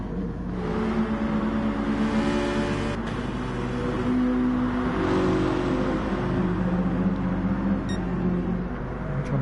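Race cars at speed in GT Sport on the Sardegna B circuit during a Nations Cup race, a continuous engine roar with shifting pitch as cars accelerate and follow one another, steady and fairly loud throughout.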